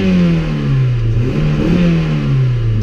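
A Toyota Celica 1.8 VTi 143 hp engine running on LPG revs up loudly and close, its pitch rising and falling in a steady, throaty surge.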